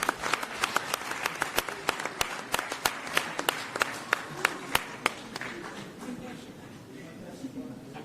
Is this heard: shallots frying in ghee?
no